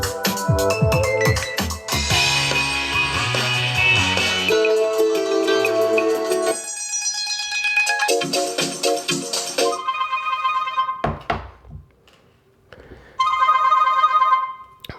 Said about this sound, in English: if we go here to voice call ringtones, let's check the music